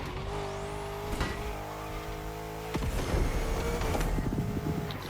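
A classic BMW racing in The Crew Motorfest on a summit event: a steady engine drone with a rising whine, tire squeal and skidding, then a louder revving surge near the end, with no voices.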